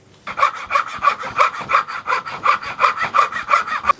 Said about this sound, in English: So I'm just going to hacksaw those in half and just make some bolt holes.